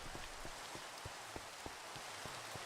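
Steady rain in the Minecraft video game hisses across the whole stretch, with scattered soft drip-like taps at irregular intervals and no voices.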